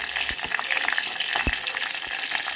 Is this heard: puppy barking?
no